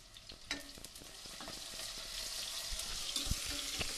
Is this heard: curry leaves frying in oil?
yes